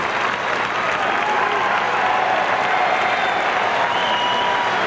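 Arena crowd at an NCAA wrestling final applauds new 134-pound champion Randy Lewis of Iowa, a broad sustained clapping that stays even and fairly loud from start to finish, heard from within the hall.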